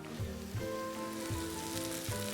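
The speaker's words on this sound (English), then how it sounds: "onions getting brown." Onions sizzle and fry in a pan as they brown, a soft steady crackle with faint repeated clinks or stirring sounds, no one talking.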